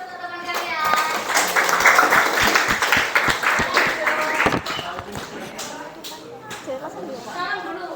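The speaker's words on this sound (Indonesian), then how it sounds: "Beri aplaus untuk teman kalian." Students in a classroom give applause for their classmates after a group presentation: a loud burst of clapping that fades after a few seconds, with children's voices chattering over it.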